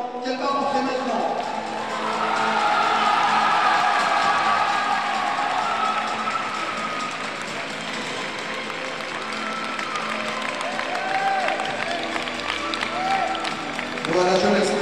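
An audience at a kung fu tournament bursts into applause, a dense, sustained clapping that swells early and carries on for many seconds while a voice speaks over it.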